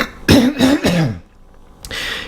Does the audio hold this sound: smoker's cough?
yes